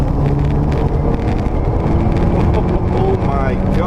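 A 2015 Opel Astra OPC with a 2-litre turbocharged four-cylinder making 280 horsepower accelerates hard, its loud, steady engine and road roar rising under wind noise while a person talks over it.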